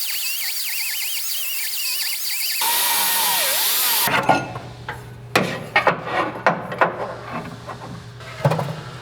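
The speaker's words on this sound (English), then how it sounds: "We got more grinding to do right up there." Power grinding on the inner frame rail of a 1967 Barracuda during a coilover modification, starting with a sustained high whine, then breaking into short, loud, choppy bursts of contact against the metal.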